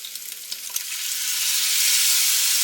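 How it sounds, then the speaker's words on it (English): Leftover pot roast with Worcestershire sauce fries in a pan, giving a loud, close, hissing sizzle that rises and holds steady after a few small crackles, with no talking. "So I'm just heating up and trying to crisp up this roast."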